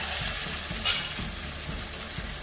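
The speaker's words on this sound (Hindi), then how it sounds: "आप कबाब बना बना के और फ्राई करते जाइए" Kebabs frying in a pan over medium-low heat give a steady, close sizzle with soft bubbling crackle throughout, alone with no voices.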